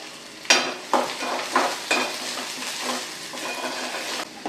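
Green chillies and curry leaves sizzle in hot oil with onion in a pan for a quick tomato chutney, a steady crackling frying bed broken by several louder scraping stirs of a spoon against the pan, close and without voices.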